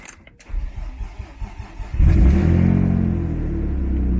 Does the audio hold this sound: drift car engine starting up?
yes